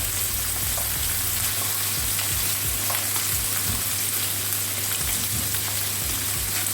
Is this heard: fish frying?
yes